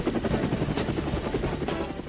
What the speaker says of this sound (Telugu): ఇప్పుడు ఆ ఇంజిన్ ఎందుకు స్టార్ట్ చేసావు?